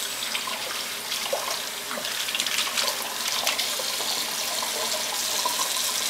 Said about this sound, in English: But you'll want to rinse them first.